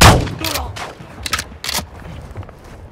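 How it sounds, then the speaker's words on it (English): Video game gunfire in a close-quarters shooter: several sharp bursts of shots and impacts at close range over a few seconds, with faint game noise between them. "You are taking effective fire."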